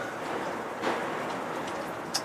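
A steady hiss of water spraying onto a Dodge RV during a rain leak test, like heavy rain, continuous and fairly close with no voices.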